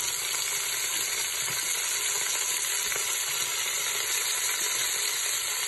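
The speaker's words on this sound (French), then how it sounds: "Donc là, je mets mon huile. Je mets aussitôt ma viande à colorer." Meat browns in hot oil in a pot, giving a loud, dense, continuous sizzle close up with faint stirring and no talk.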